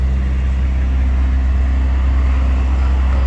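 A car approaches on a rural road, heard from inside a truck cab as a steady, loud low-pitched drone of engine and road rumble with no speech.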